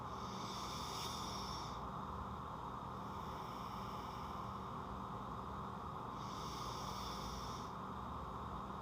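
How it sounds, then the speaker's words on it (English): Two slow, deep breaths swell and fade several seconds apart, faint and close, over a soft steady background hiss. "Now take in 3 deep breaths."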